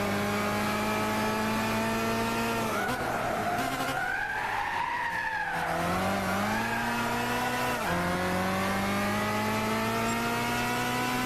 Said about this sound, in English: I won't speak for about 10 seconds so you can hear the car